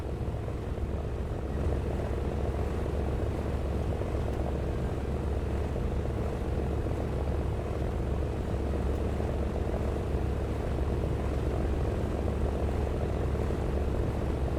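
Aircraft engines droning steadily during a World War II-style dogfight in War Thunder, a constant dense propeller roar with no breaks, moderately loud and alone.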